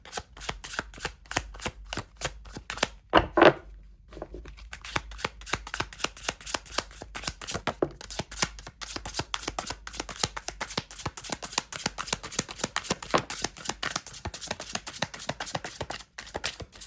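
Tarot cards being shuffled by hand, a rapid, continuous run of crisp riffling clicks and flutters, close and fairly loud, with one brief sharp burst near the start and no talking.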